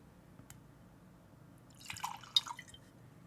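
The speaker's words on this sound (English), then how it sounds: "That sounds like time to pour some whiskey." Whiskey is poured into a glass in a short, quiet splash of liquid lasting under a second, heard up close in an otherwise still room.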